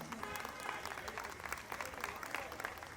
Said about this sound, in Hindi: तो एक बार जोर से तालियों से स्वागत हो जाए हमारे नन्हे नन्हे बच्चों का